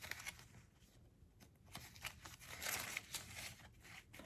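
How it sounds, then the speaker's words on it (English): A deck of tarot cards is shuffled close by, a soft run of papery riffles and flicks in quick irregular bursts. The sound is fairly quiet and no one speaks. "I feel like I need to shuffle some more."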